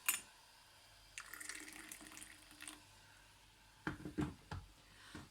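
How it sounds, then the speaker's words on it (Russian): Boiling water pours into a teapot in a few short bursts with gurgling splashes, following a longer steady stream earlier on; moderately loud and close, no talking. "1/3 наливаем кипяток."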